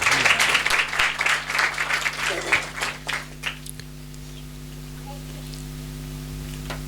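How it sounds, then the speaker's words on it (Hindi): A church congregation claps during a sermon, loud mixed applause that thins into scattered claps and dies away after a few seconds, leaving a low steady hum. "आप अपने लिए ताली बजा सकते हैं"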